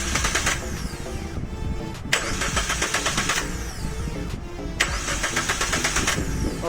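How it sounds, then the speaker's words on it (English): A Suzuki Baleno engine cranks with its fuel pump relay pulled, three long bursts of steady starter whirring separated by brief pauses, loud and close, with no catch or firing. "Crank the engine 2-3 times."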